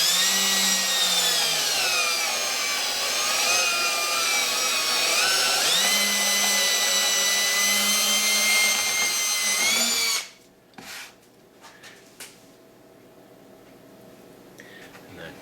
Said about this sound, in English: Now I don't have a nail coming through here that I'm going to drill into.